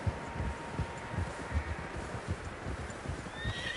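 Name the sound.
horses neighing and hooves, video game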